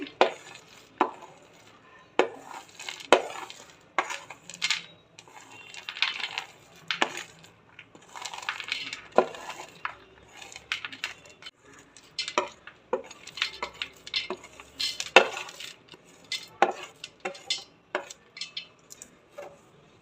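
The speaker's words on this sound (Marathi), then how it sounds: "खजूरमध्ये मी सर्व ड्रायफ्रूट तळलेले टाकून घेते" Fried dry fruits being stirred into dates with a metal spoon in a bowl, a quiet, irregular series of clinks, scrapes and taps close by, no talking.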